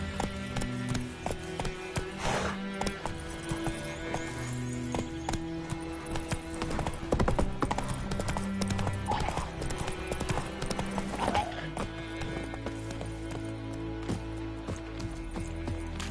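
Horse hooves clip-clop at a steady gallop in The Witcher 3 video game, loud and continuous with game music underneath and a brief whinny, no talking over it.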